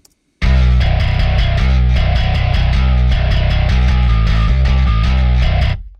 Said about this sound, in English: We have a distortion channel.